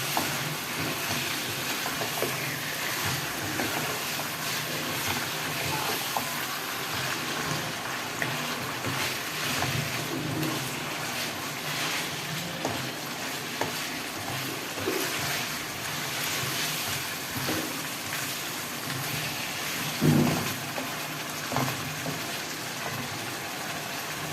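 Pieces of country chicken sizzle and fry steadily in a pan while being stirred, with a continuous dense crackle and occasional scraping knocks from the spoon.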